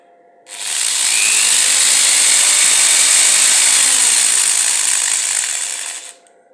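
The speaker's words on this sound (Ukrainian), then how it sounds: "Пробую шуруповерт." A cordless screwdriver powered through a 12 V to 220 V car inverter runs at full speed for about six seconds, a loud steady high whine with a sharp start and stop, heard alone.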